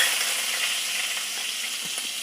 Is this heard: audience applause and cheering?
no